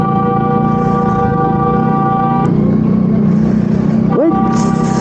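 A vehicle horn sounds a sustained tone over busy traffic noise and engine rumble, then cuts off; more traffic sounds follow.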